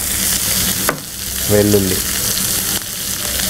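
Onion frying in a pan of oil for a ridge gourd curry in a home kitchen: a steady close sizzle, briefly stirred, with no talk.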